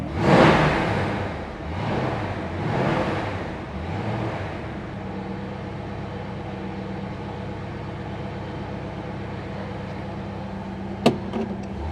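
A 1965 Ford Mustang coupe's 289 V8 revs hard in three or four loud surges, then settles into a steady idle rumble, with a sharp click near the end.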